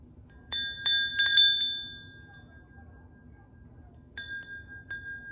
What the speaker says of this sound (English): I picked up this beautiful, beautiful cut-to-clear glass bell. It's still got its dinger in there.